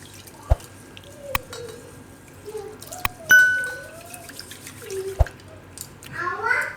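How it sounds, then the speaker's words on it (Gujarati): Soaked lentils and rice rinsed in water in a home kitchen for Gujarati khichdi: gentle sloshing and dripping with a few sharp knocks of a vessel, and a voice partly over it. "તો આને આપણે 2-3 પાણીએ ધોઈ લીધું છે"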